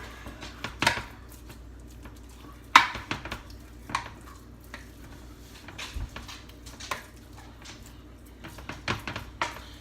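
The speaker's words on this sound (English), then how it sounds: "now we're going to take our spoon and we are going to just basically flatten it out" Meatloaf mixture being pressed flat in a dish with a spoon makes scattered soft scrapes and light clinks of spoon against dish, some sharper than others, set over a quiet kitchen background.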